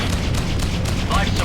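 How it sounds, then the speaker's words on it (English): A missile impact explosion in the space-combat game Freelancer: dense, loud booming rumble that fills the whole moment, with a few sharper bursts on top. "Have bogey in my sights. Impact missile."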